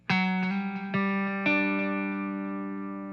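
Guitar triad played with a quick slide into the root, then several picked strikes of the chord at uneven intervals, each left ringing and slowly fading; close, bright electric-style tone with no voices.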